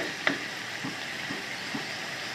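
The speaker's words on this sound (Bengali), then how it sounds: "আদা রসুন লঙ্কার পেস্টটা অ্যাড করবো এভাবে তিরিশ পঁয়ত্রিশ সেকেন্ড কষানোর পর" Ginger, garlic and chilli paste sizzles softly in a pan, a steady low hiss with a few faint scrapes of stirring and one brief clink near the start.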